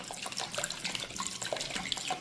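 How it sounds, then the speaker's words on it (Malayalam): Water is poured into a container, a soft continuous splashing and trickling with small bright drips, close and fairly quiet. "നമ്മൾ ഫുള്ള് വെള്ളം ഒഴിച്ചിട്ട് നമുക്ക് നോക്കാം"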